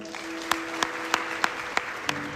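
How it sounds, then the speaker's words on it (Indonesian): An audience at a closing event at Melia Bandung claps in unison, six evenly spaced sharp claps over a faint steady tone. "berikan aplaus untuk leader nasional Sasa dan leader Komite Nasional Sonibu"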